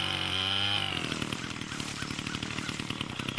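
Chainsaw cutting trees in the tree-felling video game Forestlesstree: a loud, steady buzzing motor whine that drops into a rougher, pulsing rasp as it bites into wood, continuous throughout.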